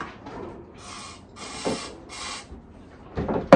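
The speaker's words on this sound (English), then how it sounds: "So take out the air filter for the airbox." An air filter is pulled out of the airbox on a sailboat generator, giving short scraping and rustling bursts of plastic and filter material, close and fairly quiet, with a sharp knock at the end.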